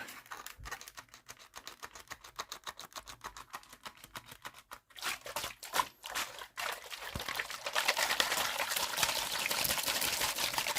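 Rapid repeated spritzes from a spray bottle, then a longer continuous hiss of spraying water, close by.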